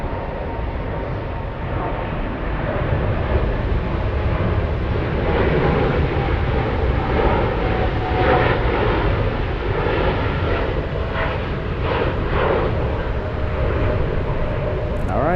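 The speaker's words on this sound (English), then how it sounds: "that will be Lufty Flight 542 on its way to Bogota, Colombia on a 787-9 Dreamliner" Jet engines of a Lufthansa Boeing 787-9 Dreamliner at Frankfurt airport, a loud continuous roar and rumble holding steady throughout, heard from outdoors with some wind buffeting.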